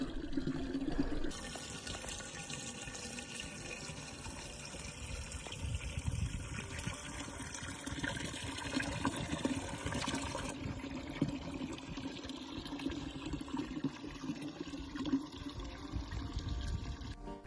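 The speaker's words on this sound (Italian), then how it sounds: "E lo spettacolo della fontana." A mountain fountain on a winter trail near Croda da Lago in the Dolomites runs steadily, a soft continuous splashing and gurgling of water, fairly faint and uninterrupted.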